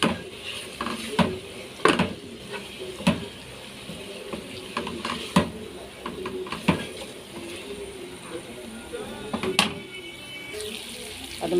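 Meat and blended tomatoes are sautéed in a pot, with a spoon clinking and scraping in scattered sharp knocks over a faint, low sizzle and stirring.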